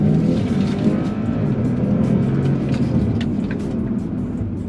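A BMW X5 F15 eDrive petrol-electric SUV revving in sport mode, its engine giving a loud, steady, close growl that holds throughout with no talking over it.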